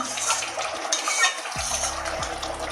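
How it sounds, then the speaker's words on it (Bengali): Pabda fish and eggplant curry is poured from a pan into a bowl with a short, wet, splashy flow and faint clinks of cookware. "এবারে একটা বাটির মধ্যে ঢেলে আবারও দেখাচ্ছি"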